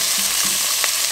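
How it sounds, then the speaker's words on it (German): Minced meat frying in a Dutch oven, a close, steady sizzle with a few short scraping and stirring sounds, no talking. "Also fangen wir an, das Gehackte auch mit anzubraten."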